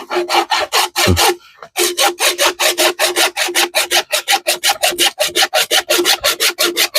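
Rhythmic back-and-forth sawing with a small saw through wood, fast regular strokes close up, with a short pause before the strokes resume at the same steady pace.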